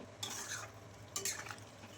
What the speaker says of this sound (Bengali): পরিমাণ মতো জল দিয়ে ভালো করে নেড়ে চেড়ে নিতে হবে